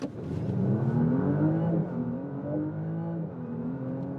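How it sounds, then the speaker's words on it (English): Audi RS5 plug-in hybrid accelerating hard to 100 km/h on the road, a rising engine note climbing through gears with brief shift dips, heard from inside the car at moderate loudness without talk. "that was beautiful acceleration now to 100"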